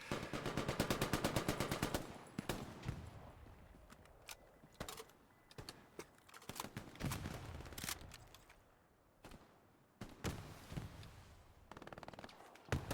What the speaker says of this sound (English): Chaotic shooting across from up here.